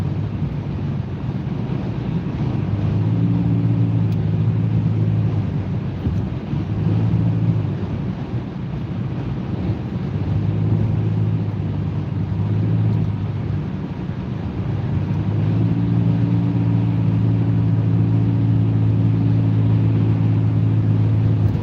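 Steady road and wind roar from inside a car cruising on an expressway at about 70 mph, loud and unbroken, with engine hum rising and falling slightly over the span.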